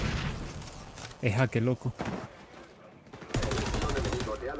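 Gunfire in the XDefiant shooter game, with quick bursts of shots and a headshot, mixed under excited talk from players.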